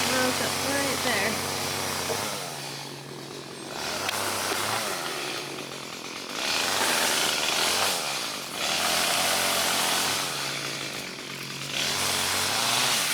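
A chainsaw engine runs steadily nearby on a food forest farm in Rincon, Puerto Rico, surging and dropping in pitch as it revs through cuts, with a rough buzzing drone throughout.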